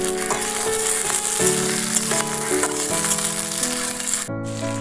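Onion sizzles as it fries in a pan with lightly fried garlic, a loud, close, steady crackle with occasional stirring scrapes, while music plays along underneath.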